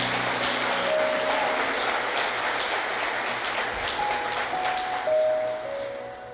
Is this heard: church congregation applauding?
yes